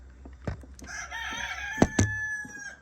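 A Leghorn rooster crows once in a coop, a clear mid-distance cock-a-doodle-doo with a few hen clucks and scuffles around it.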